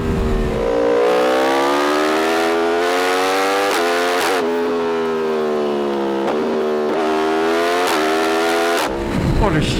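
A 2024 Yamaha R1 motorcycle engine screams through repeated hard accelerations, pitch climbing then dropping sharply at each quickshifter gear change, loud and close, with a rider's voice faintly underneath.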